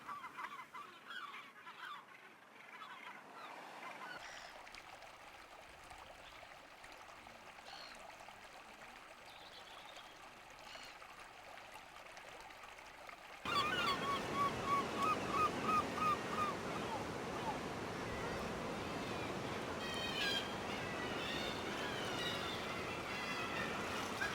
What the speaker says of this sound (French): La Bretagne, c'est aussi les oiseaux marins.